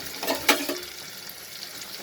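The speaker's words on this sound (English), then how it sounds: "So I'll cook till my onions become slightly pinkish in color." Onions frying in a pan over a low flame give a soft, steady sizzle with a few brief louder crackles and scrapes, close by and with no talking.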